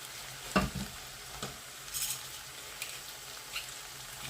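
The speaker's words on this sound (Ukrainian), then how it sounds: "Гарненько змішуємо." A spoon stirs a pot of soup with small dumplings, meat and vegetables, giving soft scattered clinks and quiet scraping, with one firmer knock near the start over a low, steady background.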